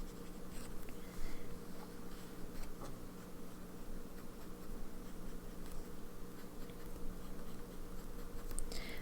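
Fountain pen with a medium nib scratching steadily across paper, a faint continuous scratching texture in a quiet room with low background hum.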